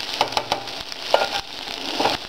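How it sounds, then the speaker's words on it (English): Vegetables sizzle steadily in a hot non-stick pan with olive oil and butter, with a few sharp clicks and clatters of stirring over the continuous frying hiss. "And get these vegetables in here. And it's nice and sizzling."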